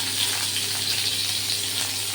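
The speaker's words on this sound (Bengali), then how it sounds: "ফুলকপিটাতে তেল দিয়ে ভাজছি" Cauliflower frying in a little oil with a pinch of salt gives a steady, close, crackling sizzle that carries on unbroken, with no voices over it.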